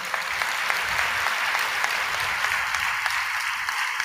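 Steady crowd applause, many hands clapping together in a dense, continuous wash of sound with no pauses.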